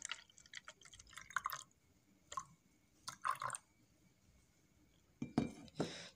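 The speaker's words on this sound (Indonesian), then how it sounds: "Kemudian yang botol satunya juga kita tambahkan air." Tap water poured into a plastic bottle at home during a kitchen experiment: short bursts of splashing and gurgling with clinks of the container, separated by quiet pauses.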